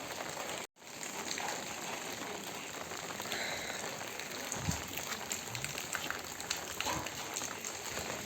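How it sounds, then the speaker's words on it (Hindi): Steady rain falling on a festival day of Raksha Bandhan, a dense continuous patter of drops on surfaces close by, unbroken throughout after a brief dropout near the start, with no talk. "सुबह से आज बारिश ने परेशान करके रखा है।"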